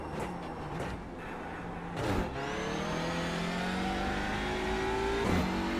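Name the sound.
race car engine upshifts in iRacing video game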